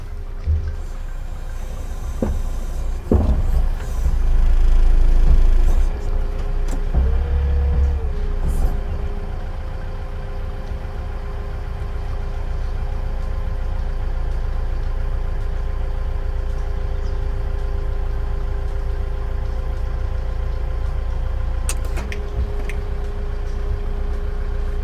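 A Manitou MT625H telehandler lifting its rear end under a front load, heard as a steady engine hum with a brief surge of effort and a whining hydraulic tone before settling back to a constant drone.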